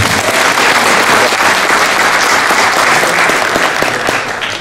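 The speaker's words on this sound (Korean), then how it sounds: "다시 한번 우리 큰 박수 좀 부탁드립니다" Loud, thick applause from a crowd at a district chamber of commerce annual general meeting and year-end evening, many hands clapping evenly throughout and tapering slightly at the very end.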